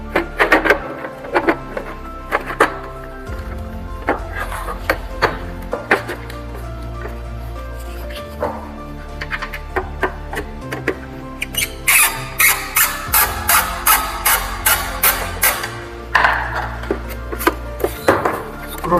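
An electric wet grinder runs after servicing, giving a steady motor hum with repeated rhythmic knocking and clattering that grows sharper and more regular in the second half.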